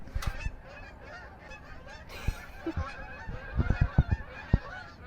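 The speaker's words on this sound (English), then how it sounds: "Actually, not seagulls. Canadian geese." Several Canada geese honk in bursts, the calls loud and close near the end, with wind and faint background noise throughout.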